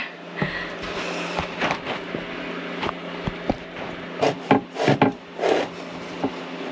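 A knife cuts and pries open a large pink-fleshed grapefruit with a thick rind, giving close, irregular scraping, rubbing and crunching sounds in short bursts with brief pauses between them, with no talking.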